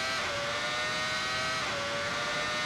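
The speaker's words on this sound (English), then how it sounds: "screaming V10 powering us up to 330 kilometers an hour up the main straight" A 1995 Benetton V10 Formula One engine screams at high revs under full throttle, a steady, loud, high-pitched wail heard from onboard with a faint pitch dip partway through, no voices.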